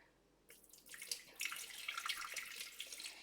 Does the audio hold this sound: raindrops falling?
no